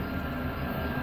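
A loud, steady rumble of a GO commuter train passing close by near Toronto, with continuous low roar and rattling throughout and no voices.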